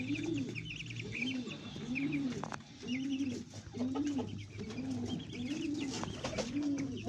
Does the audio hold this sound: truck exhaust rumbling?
no